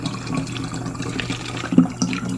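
Water runs steadily into a container, a close, continuous gurgling stream with small splashes.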